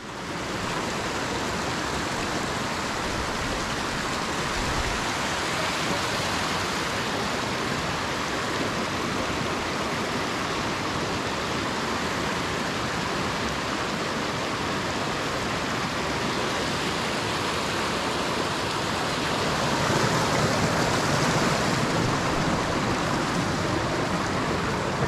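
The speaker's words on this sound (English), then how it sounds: "but a beautiful creek. We made it, here it is." A creek in the Montana wilderness flows in a loud, unbroken rush of water that fills the whole stretch with dense, steady noise, surging slightly toward the end, with no voices.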